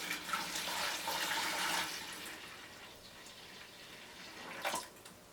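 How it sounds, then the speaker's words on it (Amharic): Water pours from a jug into a container to start a keribo brew, a rushing splash for about two seconds, then fading to a quieter trickle with a brief final splash. "ውሃ ጨምራለሁ።"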